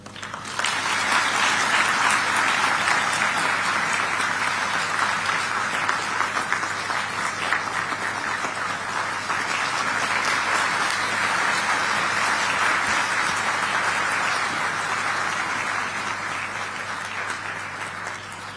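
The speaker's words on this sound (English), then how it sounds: "Ladies and gentlemen, let's continue to applaud." An audience applauding after a speech about an African vision for the AU, sustained dense clapping from a large crowd that swells in at the start and holds steady, loud and unbroken for nearly twenty seconds.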